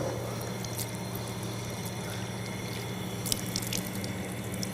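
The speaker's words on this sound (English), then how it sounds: "Then a person should wash his hands starting from the beginning of the fingers until the elbow." Tap water runs steadily while hands and forearms are washed for wudu, a continuous close splashing flow with a few drips and small splashes over a low hum, no speech.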